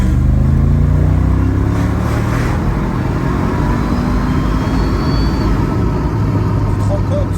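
A car engine with its compressor kicking in gives a steady loud rumbling drone as the car drives, with people talking over it.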